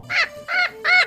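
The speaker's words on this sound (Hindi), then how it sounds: "ये तो कौवे की आवाज है।" Three harsh, evenly spaced crow caws standing in for a parrot's voice, loud and close with no talk over them.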